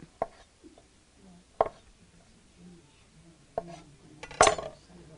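A knife slices grapes on a cutting board, giving a few sharp, separate taps spread out in time, with a louder clattering knock near the end and quiet room sound between the cuts.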